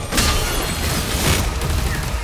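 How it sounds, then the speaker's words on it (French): A laser weapon firing in the video game DOOM: The Dark Ages, heard as a loud continuous roaring, crackling blast that sustains for about two seconds with a low rumble underneath and no talk. "Ah, c'est le laser, d'accord."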